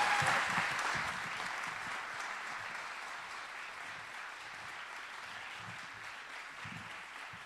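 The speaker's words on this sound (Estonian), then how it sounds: "üks tore aplaus suur talle ka selle töö eest" Audience at a municipal anniversary celebration applauding, a dense, even roar of many hands that starts loudest and slowly tapers off, heard from a moderate distance.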